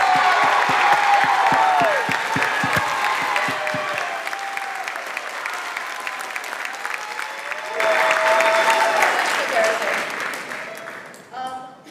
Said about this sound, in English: Let us clap for you.